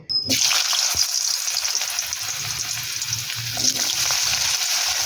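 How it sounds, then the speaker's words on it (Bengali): Potatoes sliding into hot mustard oil in a kadai for Bengali aloo bhaja, a sudden loud burst of sizzling after a short silence that settles into a steady bubbling fry with faint clinks. "তেল ভালো মতো গরম হয়ে গেছে এবার এর মধ্যে আলুগুলোকে দিয়ে দেব"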